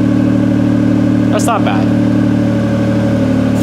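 Mitsubishi Evo 8 engine idling while warming up on a cold day, a loud, steady mid-pitched hum running throughout, with someone briefly speaking over it midway.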